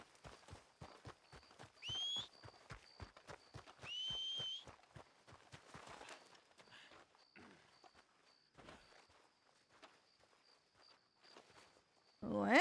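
Rhythmic video-game horse hoofbeats clip-clop at a steady trot, interrupted by two short whistles, then slowing into scattered thuds with a faint high tone behind them.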